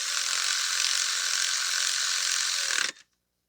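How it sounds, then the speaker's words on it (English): A ratchet tightening bolts on a 2017 Toyota Corolla 1.8 engine gives a rapid, close clicking burst for about three seconds, then stops abruptly into silence. "We're going to tighten down the bolts."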